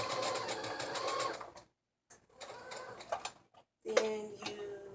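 A sewing machine runs in steady rapid bursts, forward and back stitching a turban headwrap, stopping briefly twice before starting up again, fairly close and moderately loud.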